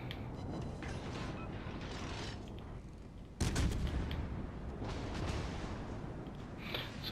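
A US Navy cruiser's guns fire armour-piercing shells in a World of Warships Legends naval battle: one loud, broad blast bursts over a continuous dense roar of engine and sea noise, followed by lighter mechanical clatter.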